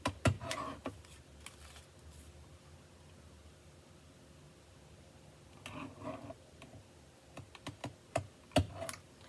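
A paper trimmer slices cardstock in short scraping strokes, a brief burst at the start, then quiet, then a cluster of sharp clicks and cuts near the end.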